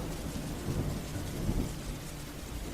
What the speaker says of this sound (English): It sounds ominous, but it's just rain